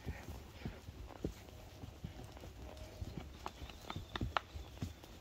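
A jumping horse walks on a trail ride, its hooves striking the ground in an uneven clip-clop of sharp, fairly close knocks, with no talk over them.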